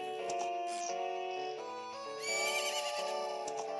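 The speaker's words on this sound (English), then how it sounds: "Isn't that your horse?" Epona, the horse in The Legend of Zelda: Majora's Mask 3D, lets out a loud, clear whinny that rises and wavers for a few seconds, standing alone with no talk over it.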